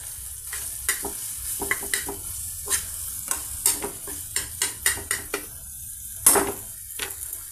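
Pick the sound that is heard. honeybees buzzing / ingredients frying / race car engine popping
ingredients frying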